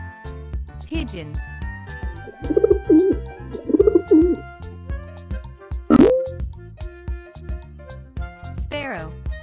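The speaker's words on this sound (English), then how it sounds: "Pigeon." A pigeon coos in soft repeated throaty bursts, close and clear, over light background music with a brief bright accent near the end.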